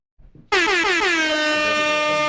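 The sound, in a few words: air horn blast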